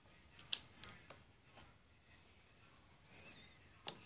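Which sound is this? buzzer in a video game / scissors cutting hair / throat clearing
scissors cutting hair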